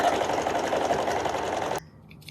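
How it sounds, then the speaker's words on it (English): A sewing machine stitches steadily around a fabric fox ear with a half-inch seam allowance, a close, continuous mechanical whir that stops abruptly near the end, leaving brief quiet clicks. "now with my sewing machine, I'm going to use a 1/2 inch of seam allowance and sew all the way around the ear"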